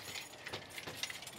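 A bunch of keys jangles near the listener in a few small metallic clinks and rattles, fairly soft and brief, with no voices.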